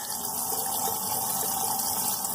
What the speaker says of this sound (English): Inside the tank I have a Bilge pump, and I've got that Bilge pump wired up to this switch right here.